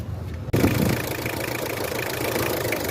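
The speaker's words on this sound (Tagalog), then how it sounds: "Gusto natin kung aandar na yung compressor." The engine of a Mitsubishi Adventure runs while its air-conditioning compressor kicks in, a sudden jump from quiet into a dense, steady mechanical rumble and hum that carries on evenly, close by and with no talking.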